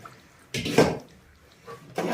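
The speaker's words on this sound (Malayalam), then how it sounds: "ഈ വെള്ളവും കൂടെ ഈ ഇറച്ചിക്കകത്തോട്ട് ഒഴിക്കുക." A glass of water is poured into meat cooking in a pot for Kerala-style kappa biryani, two short, soft splashing pours in a quiet kitchen.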